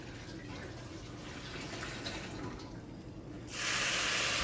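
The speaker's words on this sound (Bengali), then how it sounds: "দিয়ে দিলাম এক কাপ মতো জল জলটা এখানে অল্প অল্প করে দিতে হবে" Water runs and pours into a pot of lentils fried in ghee, a steady splashing flow that grows louder and brighter near the end.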